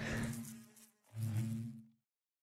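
Bees buzz in the modded Minecraft game All the Mods 10, two drawn-out droning hums in quick succession, fairly loud and close, with a short dip between them and silence at the end.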